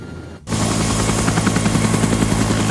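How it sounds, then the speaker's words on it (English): A helicopter in a night-raid military video game comes in suddenly after a brief quiet moment, then a loud, steady rotor thrum with rhythmic blade chop that stays close and continuous. "Somebody needs to give this helicopter a shining."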